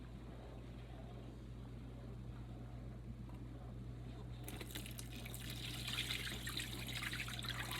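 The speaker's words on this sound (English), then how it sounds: "Make sure the water gets all the way through them." Water swirling through sprouts as they are rinsed, a soft steady trickle and wash that grows fuller and brighter partway through, heard close over a low constant hum.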